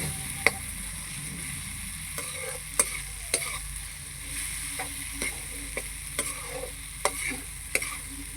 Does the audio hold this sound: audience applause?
no